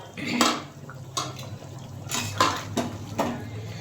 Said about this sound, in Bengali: মাছটা দিয়ে দিলাম বেগুনগুলোও দিয়ে দিলাম